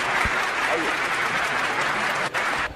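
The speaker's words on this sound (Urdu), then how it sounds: "ایک بار پورا مجمع تالیوں سے استقبال کریں" An audience at an Urdu mushaira poetry gathering applauds steadily to welcome a guest poet, a dense, continuous wash of clapping with a voice speaking over it before it thins out at the end.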